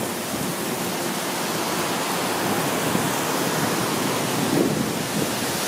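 Heavy rain pours down around a spot under temporary scaffolding, making a dense, continuous close-up hiss that stays loud and even from start to finish.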